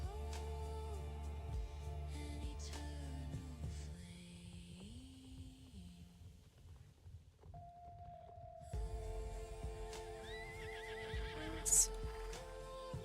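A horse in a video game neighs in a high whinny against a soft musical tone, with hoof clip-clop and a faint voice in the background.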